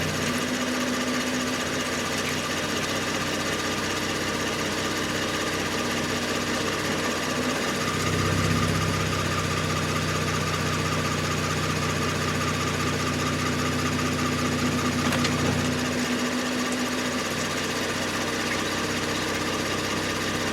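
A 2019 Kia Stinger engine runs steadily at idle during a transmission fluid change, a close, even mechanical drone with a slight shift in tone midway and no talking.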